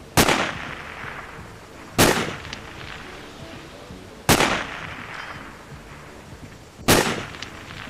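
Four sharp, loud sniper rifle shots in the video game Sniper Ghost Warrior, fired about two seconds apart, each with a booming echo tail.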